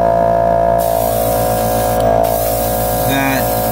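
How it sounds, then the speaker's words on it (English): Steady hiss of an airbrush spraying paint onto a 1/100 Master Grade Tallgeese custom Gundam model kit, continuous and close over a constant electrical hum, with a brief shift in pitch near the end. "if you're going to spray paint this type of paint, you want to control your PSIs on your airbrush"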